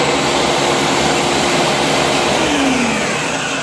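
Food processor blending sausages into mince, a loud, continuous close-up whirring roar with a slight pitch shift partway through and no talking.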